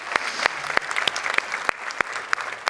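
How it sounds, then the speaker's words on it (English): Clapping from a conference audience, a steady spread of many hands with sharp individual claps standing out, continuing without voices. "Give her a round of applause."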